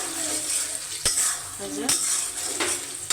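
Potatoes sauté in a hot pan for a fish and potato curry, with a steady sizzle broken by three sharp metallic clanks of the stirring spoon against the pan, close up.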